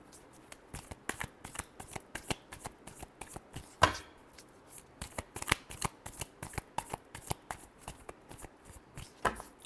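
Tarot cards are shuffled by hand in quick, close, rhythmic riffles and slaps, a steady run of soft crisp flicks with a couple of louder taps, no voice present.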